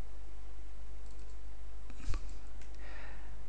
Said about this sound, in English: Click on an update button, which is just off screen, so it changes.